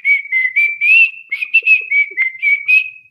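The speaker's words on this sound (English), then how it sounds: "I'm whistling while I work." A person whistles a lively tune alone, a run of clear, close, fairly loud notes in quick phrases with short gaps, ending on a held note.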